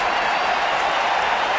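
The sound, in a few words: baseball stadium crowd cheering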